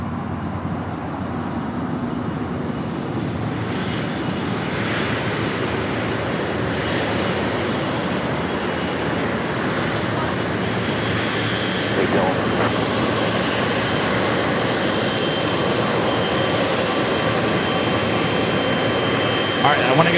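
An American Airlines jet airliner, flight 2974, takes off from runway 25 right at LAX, giving a steady, loud, broad engine roar that stays level throughout, with faint talk in the background.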